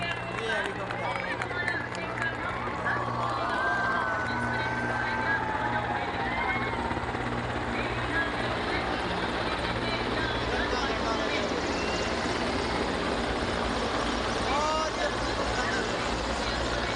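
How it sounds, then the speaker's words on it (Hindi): A helicopter flies overhead at a Republic Day parade on Kartavya Path, its low rotor drone steady beneath a murmuring crowd, with people talking throughout. "हमारे सर के ऊपर से ये हेलीकॉप्टर"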